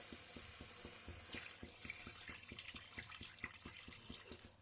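Water pours steadily into a cooking pot of masala, a continuous splashing stream with a faint regular ticking beneath it.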